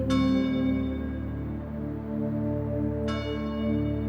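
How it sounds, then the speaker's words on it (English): A large bell at Kaumakapili Church rings before dawn: two clear strikes about three seconds apart, each leaving a long, deep, resonant hum that lingers steadily. "The bell rang every morning before dawn at Kaumakapili Church, calling the Hawaiian citizens to pray for restoration of the native government."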